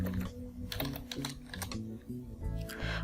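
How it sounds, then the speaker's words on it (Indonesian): Rapid typing on a computer keyboard while entering a stock ticker, irregular clicks and key taps close up, with steady background music underneath throughout. "aku ketikkan langsung di sini BBRI ya"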